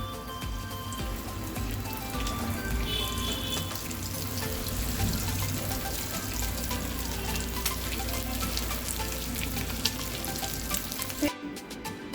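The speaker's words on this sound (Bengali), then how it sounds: "আমার চপগুলিকে আমি গরম তেলে একদম কড়া করে ভেজে নিয়েছি" Fish chops fry in hot white oil in a wok, a steady close sizzle and bubbling that continues throughout before cutting off near the end.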